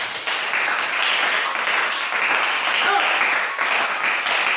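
Church congregation applauding in praise: a dense, steady wash of many hands clapping fills the room, loud and continuous throughout with a few voices mixed in underneath.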